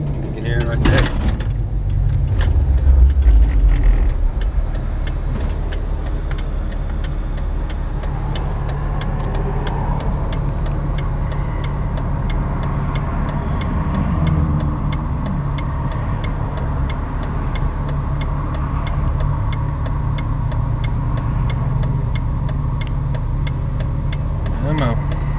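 Intake suction from a Jeep Wrangler engine fitted with a Spectre air intake, a steady low rumble and whoosh running throughout, slightly louder at the start, with voices talking over it.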